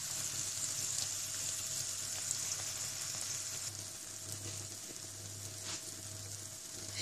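Pickled green beans coated in corn flour fry in oil in a covered pan over lowered heat, giving a steady, close, even sizzle and crackle throughout with no talking.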